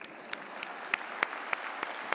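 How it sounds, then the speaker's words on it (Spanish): Applause from an audience at a conference closing ceremony in Madrid, heard as soft, fairly distant clapping with a few sharper claps standing out at regular intervals. "Así que comienzo yo aplaudiéndolo."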